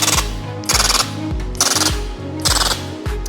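A pulsed laser welding machine spot-welds 1.5 mm thick material in regular bursts, each a sharp rapid rattle of pulses with a humming machine tone between, four bursts close up.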